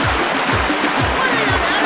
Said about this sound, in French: Écoutons le bruit de ces chutes d'eau.